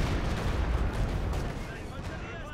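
Rocket artillery strikes pound the battlefield in Company of Heroes 2, a dense rumbling barrage of booming impacts and crackling blasts that fades slightly toward the end, with voices talking over it.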